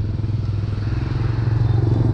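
Steady motorbike engine drone with a low, pulsing hum and faint road clatter, close and continuous throughout, with no talking.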